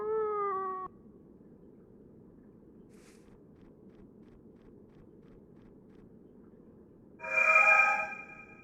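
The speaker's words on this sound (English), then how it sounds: "It's the same cat from before." Two short, clear meows from a cat in the video game Fragile Dreams: Farewell Ruins of the Moon, one at the start and a louder one near the end, separated by quiet airy background noise.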